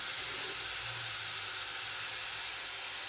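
Onion pieces fry in a pan with curry leaves during Telugu home cooking, a steady, even hiss of sizzling oil that holds constant and close for the whole stretch, with no talk over it.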